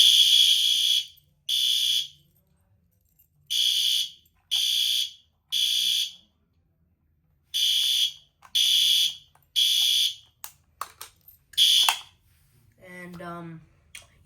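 Two wired fire alarms triggered from a pull station call point blare in loud, evenly spaced electronic bursts separated by silence, ending in a few shorter chirps and a brief voice.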